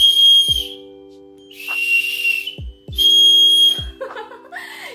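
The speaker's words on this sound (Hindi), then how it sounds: "एक बार सीटी बजाओ।" Melody Pops whistle candy, strawberry flavored, is blown in loud, shrill whistle blasts, three sustained toots separated by short pauses and sharp clicks, with a little laughter near the end.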